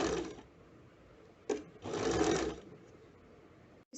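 Sewing machine stitching a frilled edge along a folded sleeve bottom, running in two short bursts of whirring, the second longer and louder, with quieter pauses between and a brief clack near the end.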